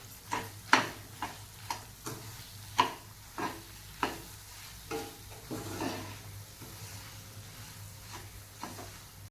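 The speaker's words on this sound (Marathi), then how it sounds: "साखर आणि खवा मिक्स करून घेऊया" Spoon stirring sugar and khoa together in a pan for pedha, a series of distinct scraping strokes at a loose, regular pace against a faint background hum, no voices.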